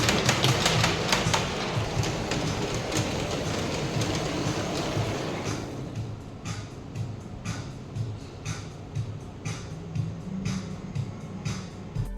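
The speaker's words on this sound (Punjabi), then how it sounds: "ਟ੍ਰੇਨ ਰਾਹੀਂ ਫੂਡ ਸਰਵ ਹੁੰਦਾ ਇੱਥੇ" A miniature food-serving train in a Ludhiana restaurant rattles along with steady clickety-clack, loud and busy at first, then quieter with sharp clicks and knocks over a low rumble.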